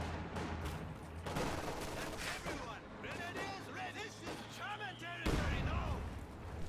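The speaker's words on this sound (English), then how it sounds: "Heavy mortar pounding away at those grenadiers" A heavy mortar bombards grenadiers in a strategy video game, with repeated battlefield thuds and crackling gunfire under continuous commentary from a nearby voice.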